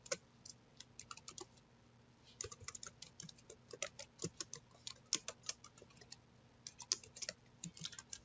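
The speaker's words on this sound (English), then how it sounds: "It's a lot of typing." Someone types on a computer keyboard at a desk, with quiet, irregular bursts of close key clicks and taps continuing throughout, no talking over them.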